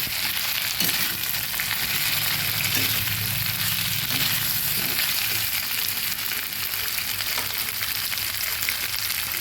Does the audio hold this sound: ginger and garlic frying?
yes